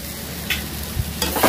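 Food fries in a pan in a home kitchen, a steady soft sizzle with a few light stirring knocks, close and fairly quiet, with no talking.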